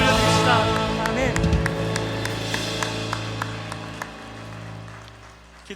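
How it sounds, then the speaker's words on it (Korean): A church congregation at a Sunday worship service bursts into applause, loud at first then gradually fading, with sustained music tones ringing underneath. "우리를 부르신 하나님 앞에 영광의 박수 올려드립시다"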